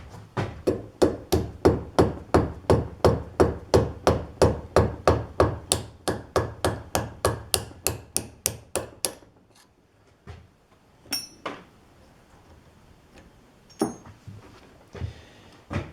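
Rapid, steady hammer blows ring out close and loud as a king pin is punched out of a truck axle during a rebuild, about thirty strikes before scattered lighter taps and pauses.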